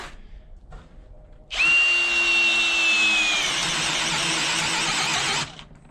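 A Popoman 1/2-inch cordless drill on a low battery whirs up with a high whine for about four seconds, then cuts out abruptly, sounding strained and uneven as it runs.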